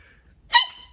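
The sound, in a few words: sneeze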